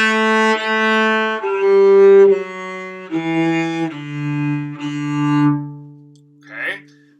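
A bowed string instrument plays sustained open-string notes and a short scale exercise as a beginner lesson, several held tones changing pitch in steps, loud and close, ending with a brief breathy noise.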